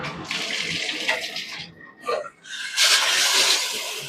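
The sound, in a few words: shower head spraying water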